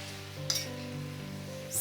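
Spring onions dropped into a hot wok for chow mein, a steady close sizzle with a brief sharp crackle as they hit the pan and another near the end, over a soft background music tone.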